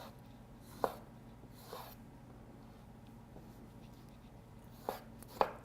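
Knife slicing a tomato for bruschetta on a cutting board, a few sharp chopping taps spaced apart in a quiet kitchen, with no talking.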